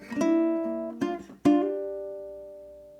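A ukulele plucks the opening half of a riff, three clear picked notes with a hammer-on, the last note ringing out and fading alone.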